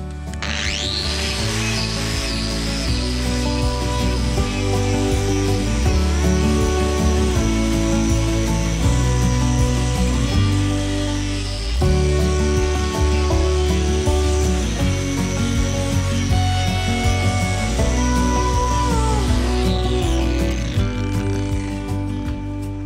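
An oversized hoof on a big lame bull is trimmed and levelled with tools, producing a loud, continuous whining grind that shifts pitch slightly as it works, close up, for over twenty seconds without talk.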